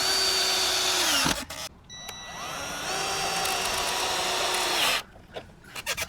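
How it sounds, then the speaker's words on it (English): A power drill driving Simpson Strong-Tie connector screws into a wooden fence post, loud close motor whine in long sustained runs that bog down and pitch-shift as each screw seats, with short pauses between. "to drive in the screws, I have this attachment that attaches to my drill"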